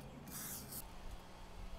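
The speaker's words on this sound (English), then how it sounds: "Well, spray WD-40 all inside." A WD-40 aerosol can sprays inside a stuck car wheel in one short hissing burst of about half a second, fairly quiet and close, followed by low background rumble.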